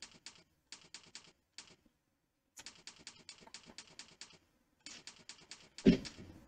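Someone types on a computer keyboard during typing practice, with quick bursts of clicky keystrokes separated by short pauses. The keys are close and fairly faint, and a louder clack comes near the end.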